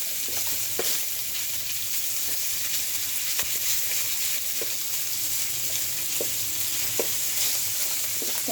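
Marinated pork fries in hot oil with a dense, steady sizzle and crackle, punctuated by occasional pops and faint stirring clicks from close by.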